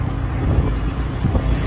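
A scooter ride through Kavi Nagar market in Ghaziabad gives a loud, rumbling engine drone mixed with heavy wind buffeting on the microphone, steady and close throughout.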